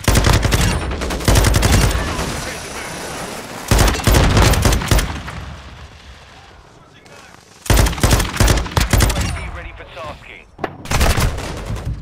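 Bursts of automatic gunfire from Call of Duty MW2 multiplayer rattle in loud clusters separated by quieter gaps, with sporadic single shots and some talk mixed in.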